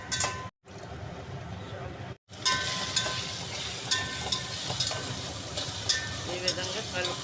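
Tomato and green peas rice, Andhra style, with curry leaves and coriander, is stirred in a sizzling frying pan. A steady close crackle and frying hiss runs under repeated scraping strokes after two brief cutouts near the start.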